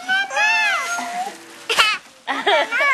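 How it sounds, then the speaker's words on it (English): A house cat meows repeatedly at close range, several drawn-out rising and falling cries with short gaps, mixed with people talking nearby during a Christmas gathering. "It's a cat."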